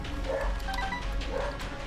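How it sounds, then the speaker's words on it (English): A dog barks happily indoors, faint and somewhat distant, with a few soft barks and yips under steady background noise. "Oh wait, no, it turned to happy barking."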